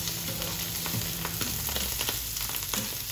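Caramelized onions and grilled mushrooms stirred together in a frying pan, a soft steady sizzle with scattered light scrapes and taps of the spatula.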